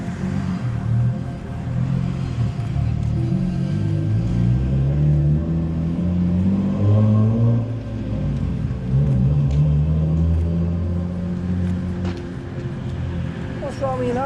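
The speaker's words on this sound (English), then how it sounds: "Why a lot of cars, Pet?" Cars passing on a road near Tullyarvan Mill in County Donegal, a moderate engine rumble with rising and falling pitch as vehicles go by, one after another over the length of the scene.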